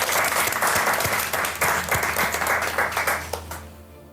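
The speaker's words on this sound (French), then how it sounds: "on va vous applaudir quand même" A studio audience at a Halloween-special evening show breaks into loud, dense applause that swells and ebbs for a few seconds before tapering off at the end.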